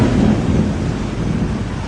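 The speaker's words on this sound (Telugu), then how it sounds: "ఉరుములు, మెరుపులతో కూడిన వర్షం కారణంగా ప్రజలు ఇబ్బందులు పడ్డారు." Heavy rain pours steadily during a thunderstorm in Gudivada, Andhra Pradesh, with a low rumbling of thunder beneath the dense hiss of the downpour.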